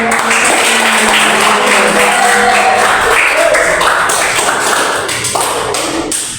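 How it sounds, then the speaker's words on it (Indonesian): A classroom audience in an Indonesian vocational school claps for a teacher, a loud, close, dense round of applause with rapid overlapping hand claps that holds steady and then starts to fade toward the end. "Kita kasih aplaus yang meriah untuk Bu."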